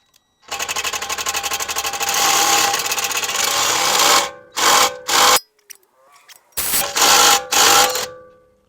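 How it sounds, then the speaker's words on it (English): An impact driver at full power works loose a front suspension nut on a Honda CR-V. It rattles and hammers loudly for about four seconds, then fires in several shorter bursts with brief pauses between them. "So now that we got that nut broken loose with our impact driver, which was amazing"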